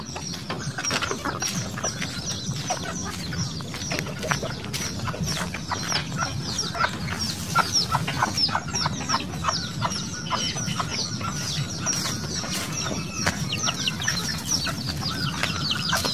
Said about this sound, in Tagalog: pakainin ko yung mga manok